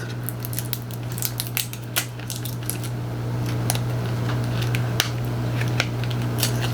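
Crinkly plastic wrap being pulled and torn off a boxed Alva Kiss of a Fairy lipstick in Light Peach, with sharp snaps and rustles close by over a steady low hum.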